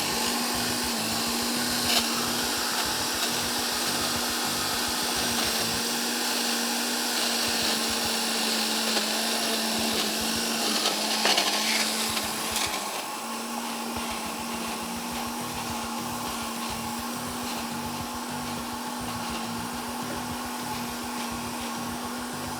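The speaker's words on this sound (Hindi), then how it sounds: "अच्छा, अब मैं इसको करूँगी ब्लेंड।" A kitchen blender whirs continuously while blending soaked ingredients, a steady motor drone with a pulsing churn that briefly eases around the middle and then resumes at an even pace.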